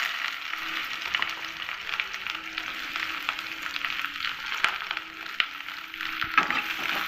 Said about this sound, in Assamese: এইখিনি গৰম হৈ গৈছে, ইয়াত মই প্ৰথমতে দিম পিঁয়াজখিনি